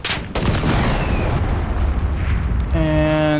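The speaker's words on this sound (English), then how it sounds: "Ich rufe die Artillerie! Verstanden! Artillerie! Feuer!" Artillery strike in the video game Enlisted: a sharp blast opens a long, loud, rumbling roar of explosions for nearly three seconds, ending in a ringing, tonal whine.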